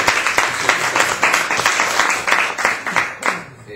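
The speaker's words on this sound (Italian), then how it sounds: "C'è un applauso a allora." Audience applause at a book reading event, a steady burst of clapping from a room of listeners that carries on for a few seconds before tapering off, heard alone without talk.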